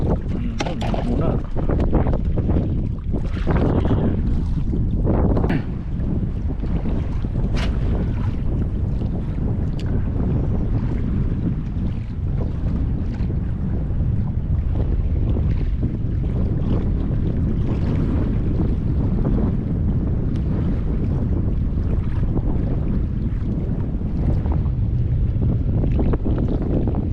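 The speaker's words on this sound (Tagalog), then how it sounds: "Isang bangka, barko pala, yun" Boat engine and water noise under heavy wind buffeting the microphone, a constant rushing roar with occasional knocks, lasting throughout.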